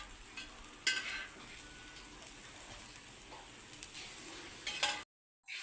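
Alasanda (black-eyed pea) dosa batter and oil sizzle on a hot pan, a faint continuous frying hiss with a few louder crackles, ending in a brief silence.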